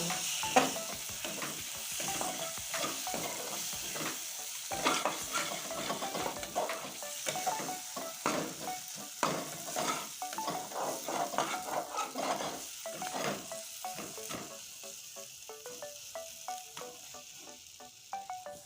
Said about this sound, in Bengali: অল্প পরিমাণ ধনে গুঁড়ো দিয়ে দিচ্ছি এগুলো দেওয়ার পর আরো কিছুক্ষণ কষিয়ে নেব